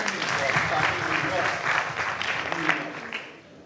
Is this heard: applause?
yes